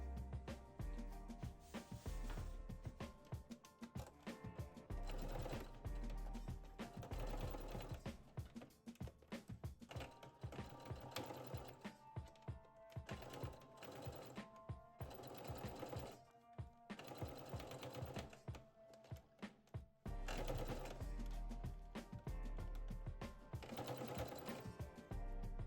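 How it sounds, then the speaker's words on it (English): A sewing machine stay stitches the neck edge of a jumpsuit bodice, running steadily and loudly for about 25 seconds with brief pauses and restarts. "you're going to stay stitch the edge"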